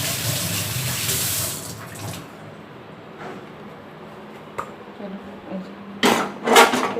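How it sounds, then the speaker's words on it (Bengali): Water poured into a pressure cooker on a gas stove makes a close rushing splash at the start, then tapering, with short bursts of splashing and clatter near the end. "জল দিয়ে দিলাম। আর একটু জল দেবো।"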